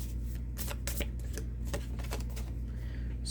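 Astrology cards being shuffled up close, a steady run of quick papery riffles and flicks over a low constant hum, with no talking.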